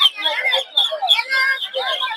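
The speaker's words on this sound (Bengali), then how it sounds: "10 জায়গা হচ্ছে চীনা হাঁসের বাচ্চা এগুলো।" Young Chinese ducklings for sale at a village poultry market, a dense mix of high, thin peeping calls overlapping continuously at close range, with busy market chatter blended underneath.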